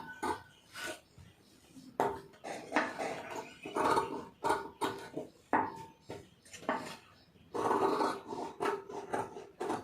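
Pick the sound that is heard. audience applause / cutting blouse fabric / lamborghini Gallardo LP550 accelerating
cutting blouse fabric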